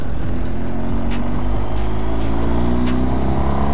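A 2021 BMW R1250 GS Adventure motorcycle engine hums in a steady, loud drone while riding, with road and wind noise and no talking.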